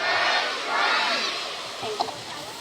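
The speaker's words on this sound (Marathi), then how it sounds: "आपणा सगळ्यांच्या खूप टाळ्या आलेल्या आहेत" A school audience at a junior KG gathering claps and cheers together, a dense, steady wash of crowd noise that swells early on and then slowly fades.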